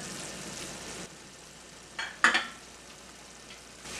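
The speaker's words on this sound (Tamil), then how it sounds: "கொதிச்சு முடிய கத்திரிக்காயை போட்டு இதுக்குள்ளே பிறட்டுறது அவ்வளோதான்" Eggplant tossed and fried in a spiced curry, a soft continuous sizzle with a louder stirring scrape in the middle and a few faint clinks.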